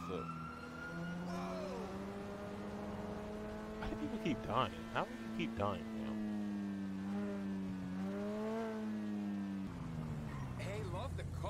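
Sports car engine in the video game GTA 5, a smooth, tonal drone rising and falling through gear changes, with some clattering effects midway and a voice talking over it.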